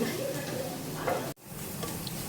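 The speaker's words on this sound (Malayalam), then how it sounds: "ഇളക്ക് പോരാ, നന്നായിട്ട് ഇളക്കാശാനെ." Onions being stirred in a pan while cooking chicken curry, a steady close sizzle with scraping stir sounds and a brief dropout partway through.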